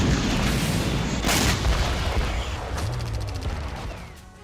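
Russian MLRS rocket attack on Ukraine: loud, continuous rumbling booms and crackling blasts that roll on and slowly fade, with no voices.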